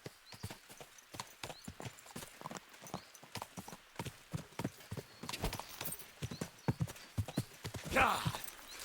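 Horse hooves clip-clop in a steady trotting rhythm through a Kingdom Come: Deliverance II game world, with a short neigh near the end; a voice talks intermittently over the hoofbeats.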